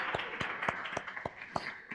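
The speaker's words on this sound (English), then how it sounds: "Let's give all our staff a wonderful round of applause." Small audience at a neighborhood council event applauding staff, with distinct sharp claps at a fairly regular pace over a light murmur.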